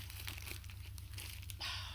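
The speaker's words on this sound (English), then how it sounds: "I just need to put this into that plastic bag" Plastic bag crinkling steadily as a junk journal newspaper cover is pushed inside, with a brighter rustle near the end, close and fairly quiet with no talking.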